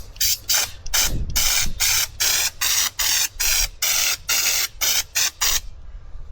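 A spray gun fed by an air compressor set just over 40 PSI fires repeated short hissing bursts at a sawhorse, about a dozen evenly paced blasts with brief gaps between them, close and loud with no talking.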